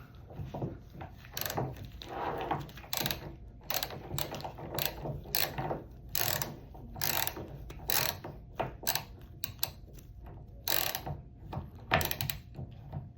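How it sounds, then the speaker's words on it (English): A torque wrench set to 60 inch-pounds tightens a fastener during repair of a loose FE1 RF connection on Rajant equipment, giving a long run of close, repeated ratcheting clicks in uneven bursts with no talk. "take that wrench and make sure you have it on the right setting. I have it on the 60 inch-pound right now. So if I go ahead and I start tightening it"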